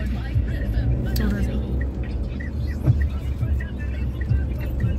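A car engine rumbles low and steady as the vehicle turns slowly into a narrow village lane, with people talking over the engine throughout.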